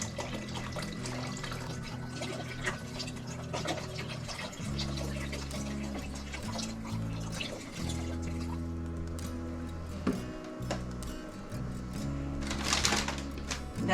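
Broth poured from a carton into a hot pan of chicken and dumplings, a steady liquid stream with light splashing, heard beneath background music.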